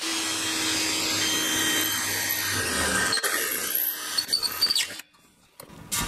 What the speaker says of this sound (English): I'm going to puncture it by drilling a hole here.